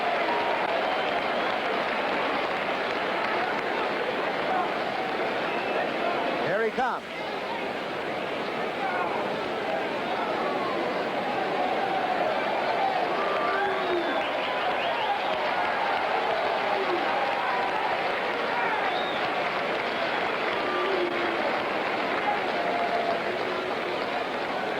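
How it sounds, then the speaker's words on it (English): Racetrack crowd at the Belmont applauding Secretariat as he moves up, a broad, sustained roar of clapping and cheering from a big distant crowd under a race announcer's continuous call. "the applause just follows him up"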